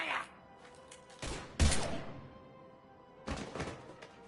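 Bursts of gunfire in the Mass Effect 3 video game, a few sharp volleys with a heavy thump in between, loud against a quiet ambient background with no talk.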